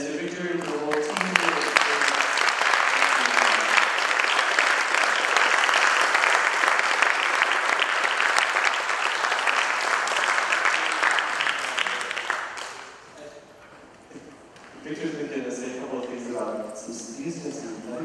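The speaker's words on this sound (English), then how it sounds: "a big round of applause to yourselves and to Victory and the whole team" Audience at the close of the Google Southern Taiwan Summit breaks into loud, sustained applause lasting about twelve seconds, then fades out as people begin talking.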